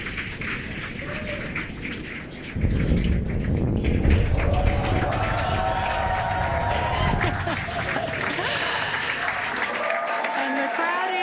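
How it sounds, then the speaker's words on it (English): A spectator crowd cheers and claps as a SpaceX Falcon 9 first stage lands at Landing Zone 1, with steady applause and excited voices throughout and a commentator speaking over it. "the crowd here is excited to see Falcon 9 touch down on landing zone 1"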